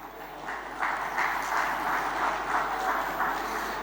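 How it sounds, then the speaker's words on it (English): Conference audience applauding panel speakers at a geopolitical strategic partnership session: steady, dense clapping that swells after the first second and holds evenly at moderate loudness. "Please, we'll have a round of applause for the speakers."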